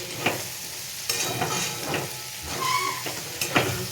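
Green beans, cauliflower and carrot fry in a pan with a steady close sizzle, broken by several scraping stirs of a spatula, moderately loud and without talk.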